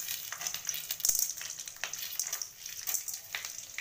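Mustard seeds with urad and chana dal frying in hot oil for pepper rice, a steady soft crackling sizzle with scattered pops, fairly quiet and close, no voices.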